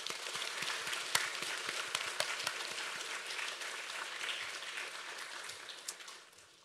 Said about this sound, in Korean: 우리 애들을 위하여 박수 한번 쳤습니다